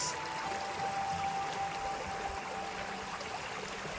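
Irrigation water flows into a rice field with a steady, faint, even rush and trickle, a continuous outdoor wash that has no distinct events.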